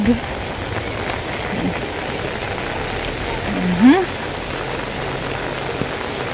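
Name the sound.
heavy rain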